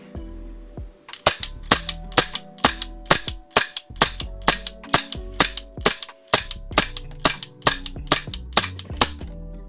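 A SIG Sauer P226 MK25 gas blowback airsoft pistol fires a quick string of about twenty sharp, snappy shots, close and loud with a crisp slide clack on each, until the slide locks back and the firing stops.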